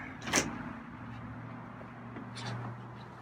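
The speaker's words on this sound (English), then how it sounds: "Close the door." A door shuts in a quiet room, with a brief sharp knock near the start and a softer sliding thud later against a low background hum.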